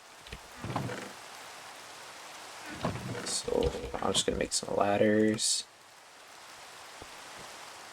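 Steady hiss of rain in the video game Minecraft runs under a man's speech, fairly loud throughout and continuing after he stops talking.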